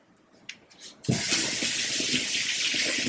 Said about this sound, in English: Giving it a quick rinse off.